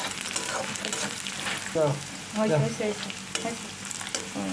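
Garlic and onion fry loudly in hot oil already spiced with cardamom and cinnamon for a lentil tempering, a constant close sizzle punctuated by bursts of stirring and spatula scrapes, with no talk.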